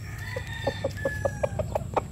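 A rooster calling hens makes a rapid series of low, repeated clucking calls, about eight evenly spaced notes nearby, with faint background chirps.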